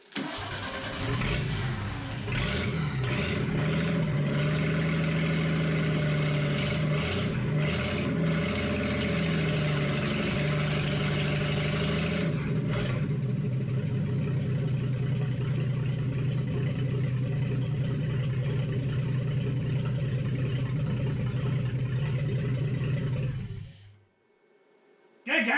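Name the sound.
engine running for the first time in truck build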